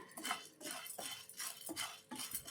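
Large sago pearls dry-roasting in a hot fry pan are stirred with a utensil, giving repeated scraping and light clinking strokes against the metal pan in a steady rhythm, close and moderately quiet.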